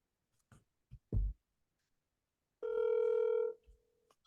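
Placing a telephone call: a few faint clicks, then a single clear ringback tone lasting about a second, heard on its own in quiet.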